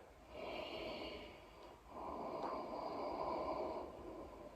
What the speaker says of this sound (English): Smooth out your Ujjayi breathing.